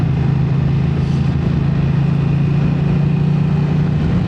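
A BMW F900XR motorcycle, a 2026 Sport in Triple Black, is ridden with a steady, loud engine drone and a constant low hum close by, with no change in pace across the stretch.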